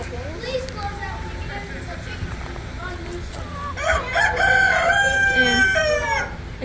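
A phantom rooster crows among 4-H poultry pens at a county fair, a loud drawn-out call rising clearly over steady crowd chatter and nearby talking.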